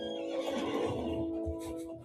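A horse in the online game Lord of the Rings Online whinnies in a long, loud, wavering neigh over a steady hum of game ambience, with no talk.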